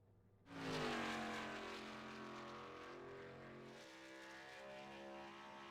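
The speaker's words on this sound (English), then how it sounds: "James McKee coming around for his second lap" A race car engine comes around on a lap, its loud sustained roar with rising harmonic tones swelling in abruptly and holding steady, with no talk over it.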